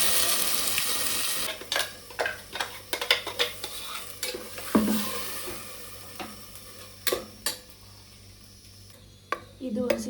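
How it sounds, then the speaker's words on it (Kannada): Ground masala paste frying in oil in a pan, with loud spoon scrapes and stirring strokes in an irregular rhythm over a steady sizzle, close up, with no talking. "ಇವಾಗ ರುಬ್ಬಿರೋಂಥ ಮಸಾಲೆನ ಹಾಕ್ಕೊಂಡು ಹಸಿ ಸ್ಮೆಲ್ ಬರೋವರೆಗೂ ಬಾಡಿಸ್ಕೋಬೇಕು"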